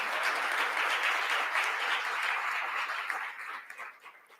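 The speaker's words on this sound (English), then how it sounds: "Let's give a round of applause for Roland" Audience applause welcomes a speaker at an Ohio forum on Latino impact, a broad, steady wash of many hands clapping that holds evenly and then fades out toward the end.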